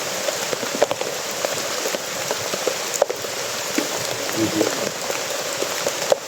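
Steady rain falls continuously, with scattered drops pattering on a surface close by and no voices over the constant wash.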